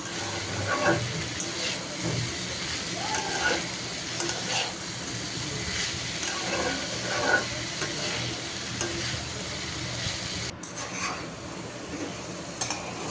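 Pumpkin and potato fry sizzles steadily in a pan while being stirred, with continuous scraping and occasional utensil clinks, close and even throughout.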